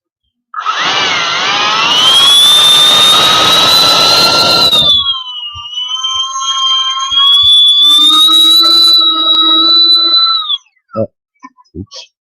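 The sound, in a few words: custom electric ducted fan unit spinning up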